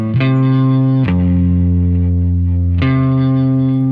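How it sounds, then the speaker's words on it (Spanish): Electric guitar played near the pickup through effects, three sustained distorted chords with chorus and reverb, loud and close, each new strum cutting in before the previous chord fades. "Por ejemplo, si toco por aquí, por la pastilla, suena así,"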